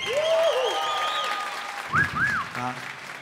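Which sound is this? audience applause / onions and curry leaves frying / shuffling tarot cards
audience applause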